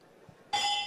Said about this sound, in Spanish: Y la campana que suena.